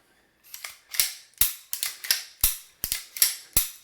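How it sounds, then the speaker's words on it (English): Sharp metallic clicks and snaps from a Lago Arms Alien pistol sight clicking into place, about ten in an irregular series, close and crisp, with no voices. "push on the sight while pushing back till you hear it click."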